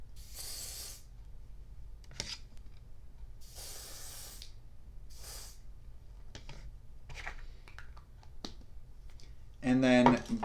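Several short hissing sprays from an airbrush applying foundation to the face, in separate bursts over a quiet background, followed by a brief louder rustle near the end.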